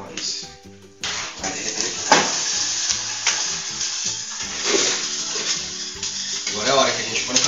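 Loud, steady sizzling of shrimp and tomato frying in oil in a hot pan, with crackles and occasional utensil clinks, and a voice talking over it.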